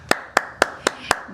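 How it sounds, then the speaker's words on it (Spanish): Five evenly spaced, close, sharp hand claps in a steady rhythm, loud and clean with little crowd noise behind them, in welcome of a guest. "Yo quiero que tú recibas con un fuerte aplauso a Mónica Vargas."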